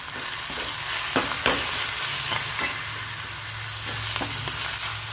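Fenugreek leaves (methi) with turmeric, red chilli powder and coriander powder being sautéed in oil, a steady close sizzle broken by repeated sharp scrapes of a spoon stirring the pan, with no talking.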